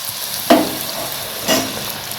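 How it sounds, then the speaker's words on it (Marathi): Puris frying in hot oil for pani puri give a soft bubbling sizzle, with two brief louder splashes of hiss as dough hits the oil, close and without talk. "तेलामध्ये एकदम आपण 5-6 पुऱ्या टाकून घेऊया"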